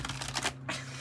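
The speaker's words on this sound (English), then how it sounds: "I was just shuffling." Tarot cards are shuffled in a brief, quiet burst of riffling and rustling, close by, with no talk over it.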